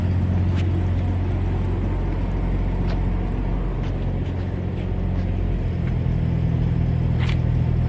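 A semi truck idles with a steady, loud diesel rumble while tugging against a hooked 2012 trailer, the engine drone constant throughout with faint clicks and rattles over it.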